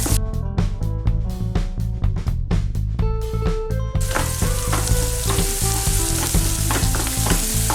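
Chopped onions frying in a hot pan for chicken gravy, a loud, continuous sizzle with scraping and stirring knocks from a utensil against the pan, close up and without talk.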